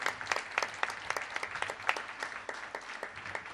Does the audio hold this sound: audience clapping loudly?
yes